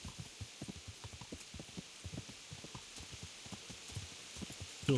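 Horse hooves clip-clopping in the medieval video game Kingdom Come: Deliverance, a steady stream of soft, quick thuds at moderate distance over a low ambient hum, with no talking.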